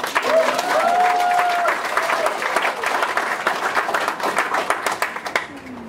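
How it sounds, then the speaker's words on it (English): A large audience at a leadership talk bursts into steady applause, with dense clapping and a brief cheer early on, holding strong before tapering slightly at the end. "I think this attendance deserves a big round of applause"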